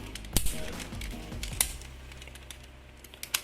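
Plastic parts of a DX GoZyuJin Gokaiger toy robot clicking and ratcheting as they are rotated and folded, a few sharp snaps standing out over soft handling noise close up, with no talk.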